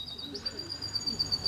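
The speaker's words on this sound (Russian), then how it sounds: "Птицы поют." Birds calling softly in the background outdoors, a faint repeated high chirp over low ambient noise, with no one talking.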